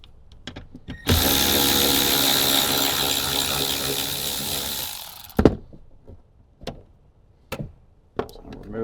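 A ratchet works on a 14mm bolt under a seat cover in a Toyota Tacoma, with a dense, loud stretch of mechanical clicking and grinding lasting about four seconds, followed by scattered sharp knocks and clunks.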